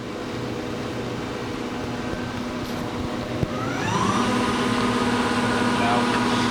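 Hyundai-WIA L300C CNC turning center with a 12-station turret and chip conveyor, its spindle running at 500 RPM in high range, a steady mechanical hum that rises in pitch midway.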